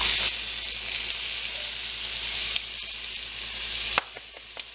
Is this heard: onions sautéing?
yes